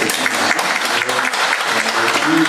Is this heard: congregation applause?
yes